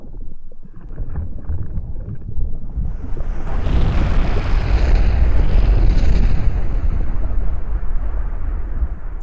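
Baking soda and vinegar react in a vigorous fizzing rush. The sound is loud and close. It starts quietly, then builds into a broad, steady hiss that carries on to the end.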